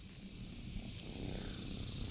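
A cat purrs close by in a garage where a 1971 Plymouth Satellite is being worked on, a low steady rumbling that swells slightly toward the end, with no talking.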